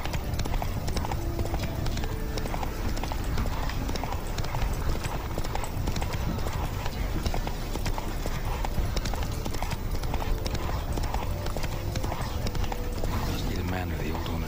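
The horse Roach's hooves clip-clop in a steady walking rhythm in The Witcher 3, clear and close, with speech and game ambience running underneath.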